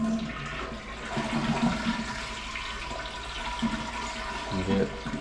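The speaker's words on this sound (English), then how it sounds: "Now we're going to flush the toilet" A household toilet is flushed with its water supply shut off, the handle held down as the tank drains into the bowl, giving a steady rushing gurgle of water with no refill, heard close up in a bathroom.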